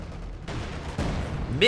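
Rapid bursts of gunfire and explosions crackle in a Company of Heroes 2 battle, a few sharp reports spread over a steady rumble of combat, with a louder hit at the end.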